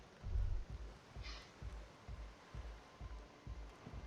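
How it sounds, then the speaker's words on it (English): Running water in Disco Elysium, a soft steady trickling wash with a faint rhythmic pulse underneath, quiet and continuous. "maybe that's just water running"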